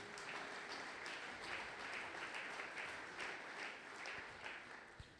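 A church congregation at a Sunday worship service applauds and cheers for Jesus, a steady wash of clapping that holds evenly for several seconds, with no speech over it.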